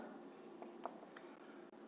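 Pen or chalk writing on a board during a Class 7 maths percentage lesson, a faint scratching stroke pattern with small taps, quiet and close, with no talking.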